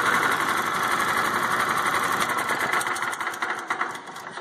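A Honda GX160 small engine fitted with a quiet-pack silencer muffler runs at full throttle, giving a steady buzzing drone that is close and loud, then roughens and begins to fade near the end.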